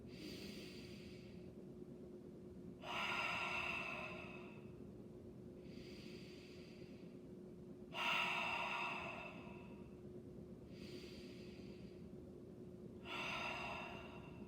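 Three slow, deep breaths taken during a singing support exercise, each a broad airy intake lasting a couple of seconds, evenly spaced with quiet pauses between, close and clear over a low steady hum.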